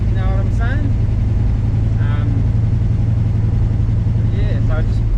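A 1946 Chevrolet hot rod truck engine idling with a steady, loud low rumble throughout, while someone talks over it.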